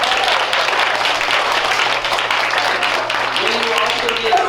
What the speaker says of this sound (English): Will you give a round of applause to our runners who have been very busy today?